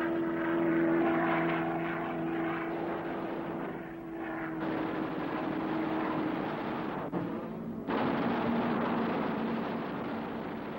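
The twin Allison engines of a Lockheed P-38 Lightning drone steadily with a propeller hum, loud and continuous, with brief dips and shifts in tone partway through.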